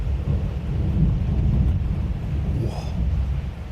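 A deep, rolling rumble of thunder from lightning during heavy rain swells and fades over a steady, dense hiss of downpour, loud and continuous throughout.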